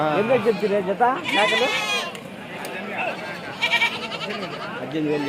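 Several goats bleat loudly nearby amid a busy crowd at a livestock market in Kadiri, with people talking over and between the calls.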